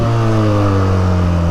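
A Benelli TNT 300 motorcycle fitted with an Akrapovic exhaust rumbles loudly and close by, its engine holding a deep, steady drone with a slight upward pull in pitch.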